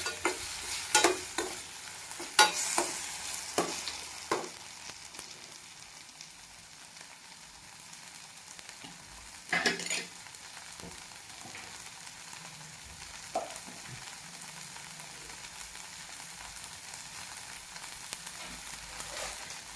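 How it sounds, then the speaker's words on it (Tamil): Peanut sundal sautéing in a pan, with stirring scrapes and clatters near the start and around the ten-second mark over a steady low sizzle, no talking. "நல்லா வதங்கி வரட்டும்."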